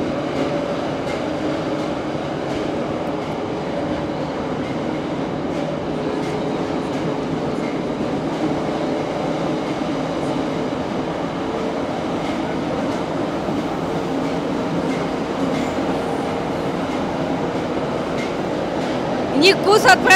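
Moscow metro trains on the Big Circle Line make a steady, loud rumble and rattle throughout, with a brief metallic squeal near the end.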